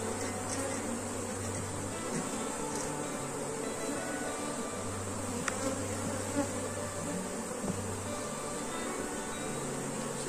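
A swarm of honey bees buzzes continuously around a hive being worked by a beekeeper, a dense, loud, steady drone with no break throughout.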